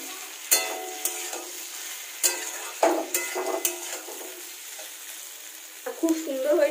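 Cauliflower and potatoes sizzle in hot oil as a spoon stirs and knocks against the pan in several sharp scrapes, with a quieter steady fry between strokes.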